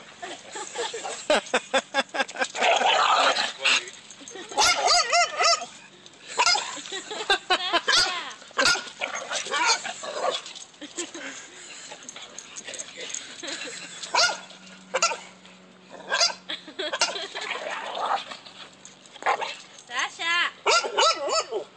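A pitbull barks in repeated sharp bursts, close and loud, mixed with yips and whimpers while people talk over it throughout.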